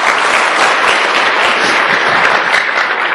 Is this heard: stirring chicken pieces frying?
no